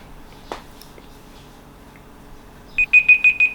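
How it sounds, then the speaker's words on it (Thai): An alarm clock beeps in rapid repeated bursts near the end, loud and close, following a quiet stretch with a single soft knock. "เป็นเสียงเหมือนนาฬิกาปลุกครับ ดังขึ้นมาเนี่ย"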